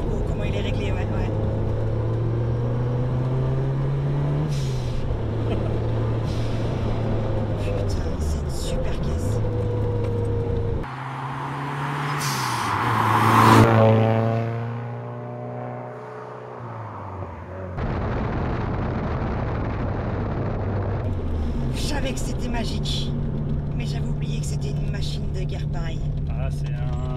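A Lancia Delta Integrale's turbo engine drones steadily from inside the car while driving, then surges in a loud, rising rev midway before settling back, with people talking over it.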